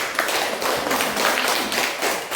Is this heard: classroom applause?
yes